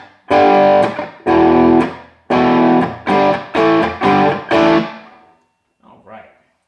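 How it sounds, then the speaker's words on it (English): Electric guitar power chords played through a Monoprice Stage Right 15 amp with distortion, seven loud strummed chords in a choppy rhythm, each ringing briefly before being cut off, followed by a faint short scrape at the end. "I'll just do a couple power chords."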